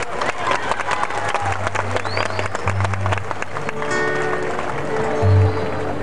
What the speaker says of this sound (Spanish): Un aplauso para ustedes, señor.